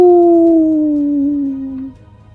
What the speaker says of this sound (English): Now the wolf pup howls